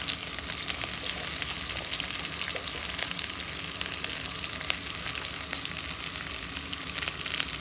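Chopped onion and chili sizzle and fry steadily in a pan for begun bhorta, a Bengali mashed eggplant dish, a dense continuous crackle held close and even throughout with no talk.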